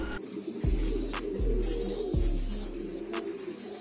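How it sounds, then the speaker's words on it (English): A Holle Cooper pigeon, a fancy breed from the Netherlands, gives three close, deep rolling coos in quick succession, with faint chirps from other birds in the background. "Holle Cooper pigeon."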